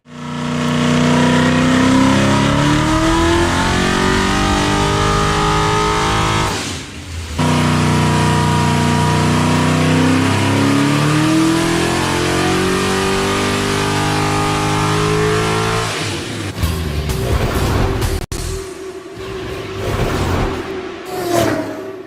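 Carbureted or throttle-body injected engine on a dyno in a shop, revving loudly and steadily with rising pitch sweeps, a brief drop near seven seconds, then choppier throttle blips and lower idle toward the end.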